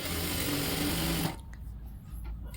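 A sewing machine stitches a folded lining piece along the bottom of a child's frock, running steadily and loudly for about a second and a half before stopping, leaving quieter handling noise.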